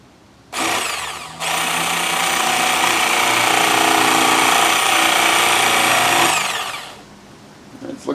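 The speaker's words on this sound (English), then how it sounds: "let's get this thing drilled through, hopefully straight" A power drill bores through a part during a clipped-wing Taylorcraft aircraft restoration, a loud steady grinding whine that starts, briefly restarts, runs for about five seconds and then winds down close by.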